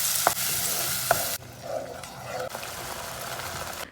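Ground green masala sautéing in oil with cinnamon and cloves for a soya gravy, a close sizzle with a few sharp spoon clicks and one stir that briefly hushes the frying.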